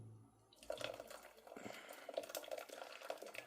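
Brewed buckwheat tea poured through a strainer into water in Nubra, Ladakh, a faint trickling and dripping pour that starts after a brief quiet moment and continues unevenly.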